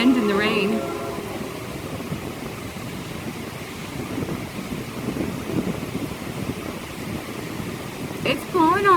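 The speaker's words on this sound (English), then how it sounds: "It's pouring on me." Heavy rain pours down during a storm, a steady broadband wash with wind gusts rumbling through it, and a brief voice rising near the start and again near the end.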